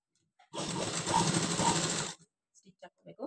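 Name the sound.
sewing machine stitching lining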